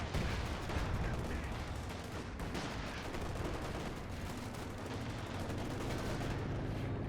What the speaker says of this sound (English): There's grenade.